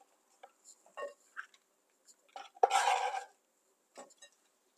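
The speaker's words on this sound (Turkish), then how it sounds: "Şimdi benim 6-7 adet yeşil biberim var, köy biberim. Bunları iri iri doğruyorum." A knife coarsely chops green peppers with sharp, uneven knocks on a board, clattering bits of kitchenware, and one louder crunchy burst in the middle.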